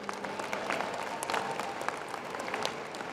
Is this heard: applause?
yes